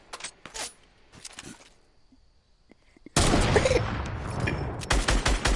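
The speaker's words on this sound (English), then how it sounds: "Oh, I shot you. Oh, I sniped you." Sniper rifle gunfire in a video game: a few sharp shot bursts, then a loud, dense blast of crackling noise that holds on, ending with more sharp cracks.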